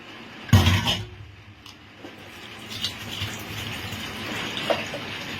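A fish being washed in water at home, opening with a sharp splash and then a steady wash of running, sloshing water with light clinks. No one speaks.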